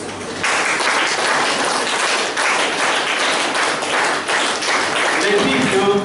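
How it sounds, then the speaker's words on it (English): Applause from a classroom of students in an English lesson, a steady burst of many hands clapping that starts abruptly and runs throughout, with voices coming in near the end. "Can we clap for this?"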